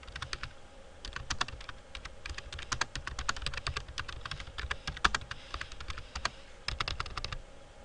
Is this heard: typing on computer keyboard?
yes